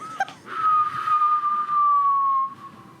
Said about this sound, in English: Wind whistles.